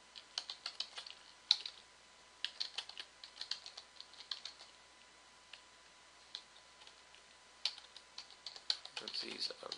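Clicky computer keyboard typing in irregular bursts of quick keystrokes, close and fairly quiet, with soft talk in places and a brief rustle near the end.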